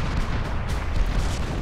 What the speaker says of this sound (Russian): У врагов, почему-то отскакивают мои артиллерийские снаряды